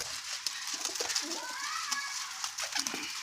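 Kamgar pigeons of a new variety cooing at close range, repeated soft throaty coos with a few wing flutters and people talking in the background.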